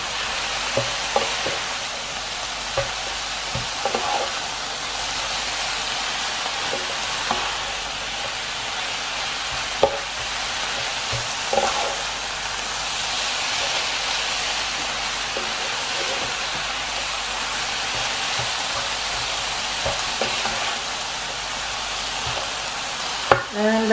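Vegetables for spring rolls stir-frying in a pan, a steady hiss of sizzling broken by the scrape and clack of a utensil stirring at irregular moments, constant and close with no talking.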